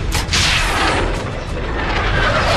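A JDAM bomb blast in Call of Duty: Modern Warfare 3, set in a naval battle in New York harbor, comes as a loud, broad, rumbling roar that swells within the first fraction of a second and sustains as thick, continuous debris-filled noise.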